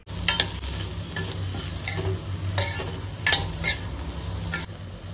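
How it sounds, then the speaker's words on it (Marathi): Boiled potato pieces tossed with salt in a pan, a steady frying sizzle with repeated scraping stirs and light spatula clinks at close range, no voices. "त्याच सोबत चवीनुसार मीठ घालून ह्याला व्यवस्थितपणे मिक्स करून घेते."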